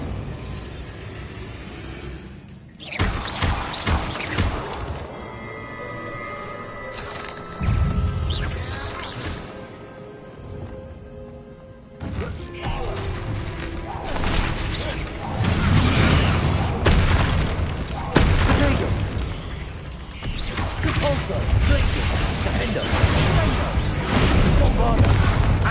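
Bombarda spell explosions in the Hogwarts Legacy video game during a fight with spiders: loud, repeated booming blasts and crashes over a busy game soundtrack, with a brief spoken line mixed in.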